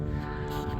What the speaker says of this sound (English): We've got a little aeroplane flying over, so apologies about the noise.